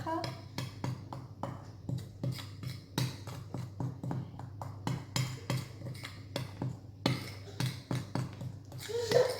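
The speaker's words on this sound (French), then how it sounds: "maintenant je mélange un peu avec une cuillère" Spoon tapping and scraping against a bowl while mixing macaron meringue, a steady series of sharp, close clinks roughly every half second, with faint speech in the background.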